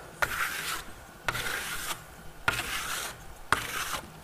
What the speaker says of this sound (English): So, as I burnish it, it's catching the high spots it's created.